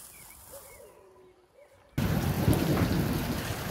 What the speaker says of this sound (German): Guckt mal, wie sehr es regnet.